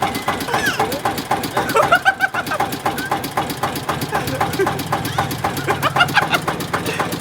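A tractor engine runs steadily with a rapid, chugging knock while someone rides on it, loud and close throughout, with voices talking over the rumble.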